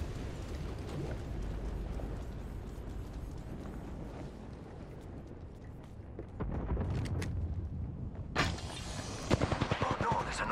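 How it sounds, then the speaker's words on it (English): Gunfire in the video game Apex Legends: a muffled rumble of distant shots gives way to louder, closer bursts and a rapid string of sharp cracks near the end, with a voice speaking partly underneath. "They're shooting at me."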